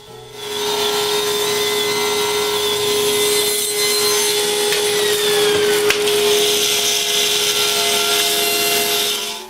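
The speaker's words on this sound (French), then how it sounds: "il a coupé les morceaux à leur taille finale sur le banc de scie" A table saw whines steadily at close range as it cuts through wood, a sustained high-pitched drone with no talking.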